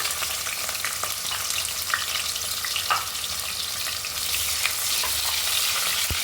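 Chopped onions and cumin fry in hot oil for a tomato bath, giving a steady, dense sizzle with occasional crackles and stirring scrapes, close and fairly loud throughout.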